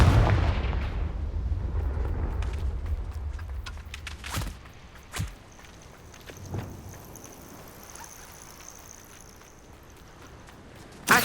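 Confringo fire-spell blasts go off in the video game Hogwarts Legacy, a booming explosive burst followed by several sharper cracking impacts over a low rumble.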